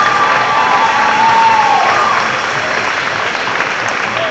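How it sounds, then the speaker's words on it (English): A crowd at a robotics competition applauds and cheers, a loud, sustained wash of clapping and voices that eases slightly toward the end. "you all deserve a big round of applause"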